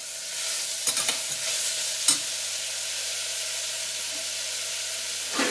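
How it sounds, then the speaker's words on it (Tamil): Vegetables and moong dal for a South Indian dal are stirred in a hot pan, giving a steady sizzling hiss with a few sharp spoon scrapes against the pan, close and without speech. "இப்போ அதெல்லாம் அடிப்பிடிக்காமல் நல்லா கொஞ்சம் வேகிற வரைக்கும் நீங்கள் அப்பப்போ கிளறி விட்டுக்கிட்டே இருங்க"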